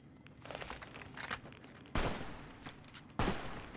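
An automated gun turret in Fallout New Vegas opens fire, two sharp, loud bursts standing out over a quieter stretch of scattered distant shots and rustling game noise.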